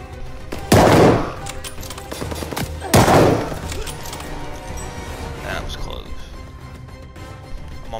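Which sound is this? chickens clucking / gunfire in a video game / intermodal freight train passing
gunfire in a video game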